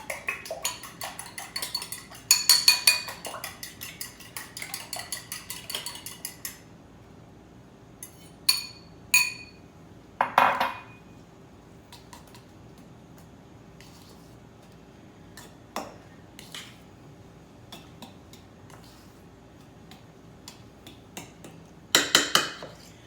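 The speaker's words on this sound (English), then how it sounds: "Now I'm going to beat 3 eggs and add it to the potatoes." A fork or whisk beats three eggs in a bowl while potato dumplings are prepared in a kitchen, making scattered bursts of sharp clinks and taps against the bowl, separated by quiet pauses.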